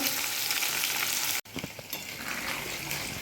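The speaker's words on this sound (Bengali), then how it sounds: "আর এদিকে মাছ ভাজা হচ্ছে" Fish frying in a pan gives a steady, close sizzle with a brief cut near the middle, then resumes with occasional spatter pops and light stirring.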